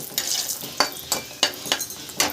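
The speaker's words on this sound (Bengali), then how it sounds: "তেলের মধ্যে এবার আমি বড়িগুলোকে ভেজে নেবো লাল লাল করে" Lentil dumplings (bori) fry in oil in a pan on a gas stove, with a series of sharp scraping stirs and clinks rising over a soft sizzle at a loose, uneven rhythm.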